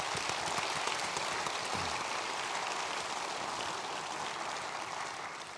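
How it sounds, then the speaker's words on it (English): Sustained audience applause at a university Nobel laureate lecture, a steady dense wash of clapping from a large crowd that holds level throughout with no voices over it. "So I think a special round of applause for the teachers themselves."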